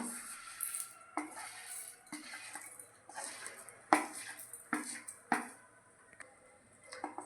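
Seeds tumbling into a hot pan of roasting peanuts for capsicum masala curry, giving close, scattered clinks and rattles with a few sharper knocks as a utensil stirs, no talking.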